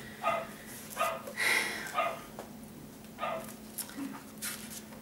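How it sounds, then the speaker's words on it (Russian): A dog barks and yips in a string of short, fairly faint bursts indoors, some sharp and some whimpering, spread irregularly over several seconds. "извини за мою собаку, она истеричка"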